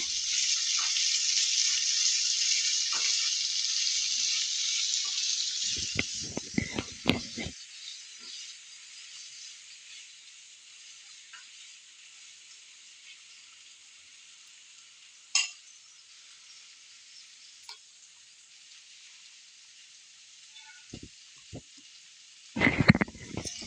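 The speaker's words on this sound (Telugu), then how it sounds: "బీన్స్ ముక్కలు వేసేసుకొని బాగా కలుపుకోవాలి" Bean pieces are tipped into a hot pan and stirred, a loud steady sizzle at first that settles into a softer hiss, broken by a few scraping stirs and a clatter near the end, with no talking.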